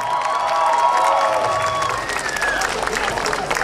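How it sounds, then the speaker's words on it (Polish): Crowd at a town hall opening ceremony clapping and cheering loudly and close, with voices and shouts mixed into the applause. "gorące brawa!"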